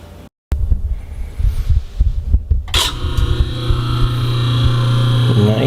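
A new garbage disposer under a kitchen sink switches on and settles into a steady, fairly quiet hum, preceded by brief handling clunks and a short silence.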